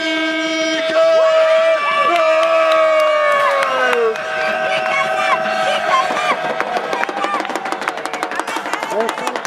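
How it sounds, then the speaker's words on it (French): Wrestling crowd at a Chtimania show roaring with cheers and applause for DK Nox's entrance, a dense sustained din with whistles and horn-like tones, loud and close throughout. "un tonnerre d'applaudissements pour DK"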